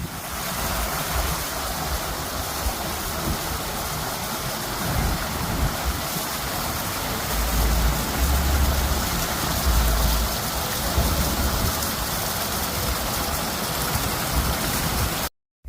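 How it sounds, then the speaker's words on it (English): Water of the Indianapolis Downtown Canal rushes and splashes continuously, a steady broadband hiss that swells slightly midway before cutting off abruptly. "Don't you just love the sound of running water?"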